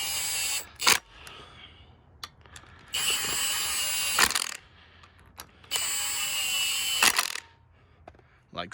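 A hand ratchet works on Ford Focus RS flywheel bolts, with bursts of rapid clicking alternating with quieter pauses and metallic taps, repeated several times at close range.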